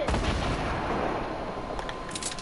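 Gunfire in Fortnite, a dense, loud burst of shots and impacts that fills the opening and gradually thins, with a few sharper cracks toward the end.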